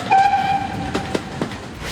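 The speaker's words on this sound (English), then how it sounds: "Did you hear the sound from the train whistle?" A train whistle sounds one short steady tone, followed by a few heavier clanks and rumbles from the rolling train on the track, fairly close.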